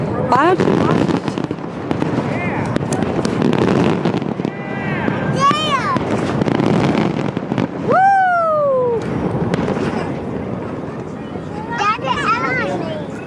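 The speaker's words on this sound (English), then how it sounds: "Watch the fireworks, it's almost over." An outdoor fireworks show keeps bursting and crackling, with several whistling rockets shrieking upward among the loud, dense explosions, under continuous crowd chatter and nearby voices.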